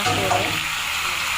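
Marinated meat sizzles loudly and evenly in a pan while being stirred, a short, dense burst of frying noise up close.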